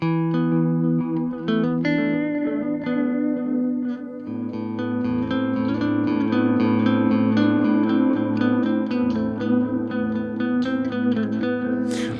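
Electric guitar through a delay pedal in oil can mode, picked notes and chords trailing warm, wobbling repeats that blur into a lush sustained wash, played up close without talk.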